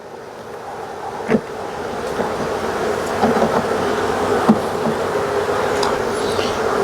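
Honey bees from a weak colony drone around an open hive as frames of brood, pollen and honey are handled, a dense steady buzz close by with a few soft knocks and no talking.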